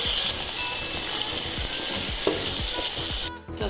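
Masala spices stirred into a sizzling mixture in a pan for Comorian bilimbi pickle, with steady loud frying crackle and scraping stir strokes throughout, ending in a brief clatter.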